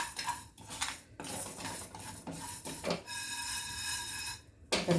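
Metal utensil scrapes and clinks against a cooking pot in irregular strokes while black urad dal fries, close by, with a faint sizzling underneath and no voices.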